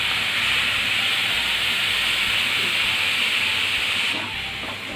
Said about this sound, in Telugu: ఇప్పుడు మనం మిల్క్ యాడ్ చేసుకుందాం